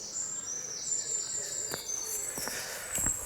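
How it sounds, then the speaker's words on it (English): Birds singing outdoors along a country road near Denbigh, with several thin high chirps and warbles repeating over faint background hiss, with no one talking. "Listen to that bird song."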